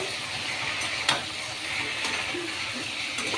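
Biryani with meat and rice is stirred gently in a rice cooker, giving a soft continuous sizzle with a few scraping clicks from the spoon, close and steady.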